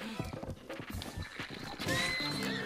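A horse in Zelda Breath of the Wild whinnies loudly over quick clip-clopping hooves, a short burst of neighing and galloping steps close by.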